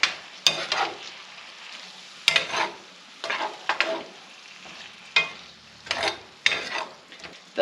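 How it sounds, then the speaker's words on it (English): Onion fries in fat in a pan, a soft sizzle broken by several distinct stirring strokes, scrapes and clinks of a utensil against the pan, close up with no talking. "I'm just going to add this onion in and then give that a mix."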